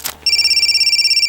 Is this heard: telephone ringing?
yes